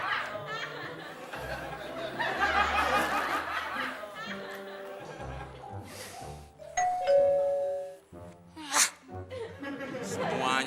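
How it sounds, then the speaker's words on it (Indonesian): A doorbell is pressed, giving a bright ding-dong chime midway through amid people talking, snickering and laughing nearby. "Pakai pura-pura mencet bel, mau jadi tamu."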